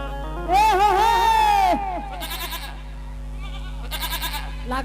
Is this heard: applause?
no